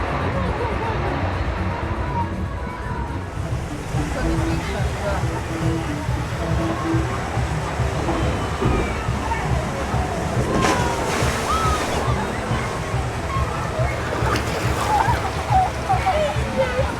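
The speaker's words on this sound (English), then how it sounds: "A little bit of off-ride footage there of river rafts." River rafts on a theme park rapids ride at Chessington splash through churning water, a loud, continuous rush and slosh with bursts of heavier splashing heard from off the ride.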